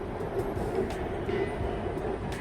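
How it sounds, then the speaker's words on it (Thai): A Bangkok BTS Skytrain at the elevated Ekkamai station gives off a steady, fairly loud rumble and hum for the whole stretch, with no voices over it. "ชมรถไฟฟ้าบนสถานีรถไฟฟ้า เอกมัย"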